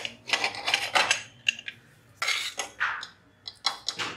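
A metal pressure cooker lid is handled and opened after cooking wheat rava payasam, with sharp close metallic clanks and clinks in irregular bursts separated by short pauses.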